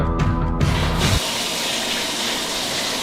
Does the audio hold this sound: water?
yes